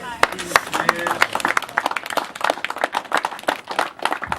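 Scattered clapping from a gathered crowd after a farewell speech, uneven and moderately loud, with voices chattering over and between the claps.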